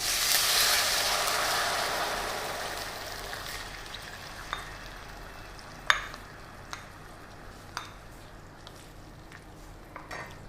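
Soaked moong dal drops into hot ghee seasoned with hing, peppercorns and jeera, giving a strong close sizzle that gradually fades into a softer steady fry, with a few light utensil clicks and taps near the end.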